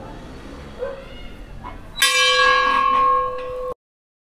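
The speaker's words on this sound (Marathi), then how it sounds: "ती मोठी घंटी अशी आहे इथं।" A large temple bell at Kankaleshwar temple in Beed is struck once, ringing out loud and close with a bright, sustained metallic tone that hums on steadily before being abruptly cut off.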